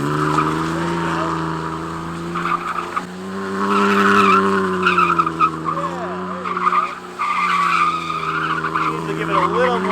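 Tires squealing as a car drifts in circles with a driver learning on a practice lot, a long wavering screech over a droning engine, rising and falling with throttle, loud and close with brief voices underneath.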